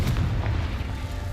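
A single Confringo spell explosion in the Hogwarts Legacy video game, a short, heavy, booming blast with a low rumble that fills the whole moment, loud and close.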